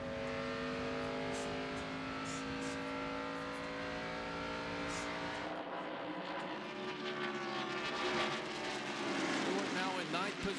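NASCAR Busch Series stock cars roar down the front straightaway at a 1998 race at Pikes Peak, a sustained loud engine drone whose pitch shifts midway as cars pass, with an announcer talking over it.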